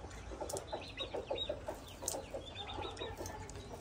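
Several chickens cluck and murmur in short, overlapping bursts close by, with a few higher chirps from other birds in the background and no talk.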